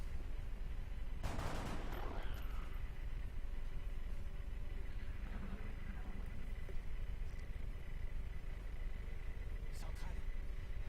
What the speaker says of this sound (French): Il veut que je lui tire dessus.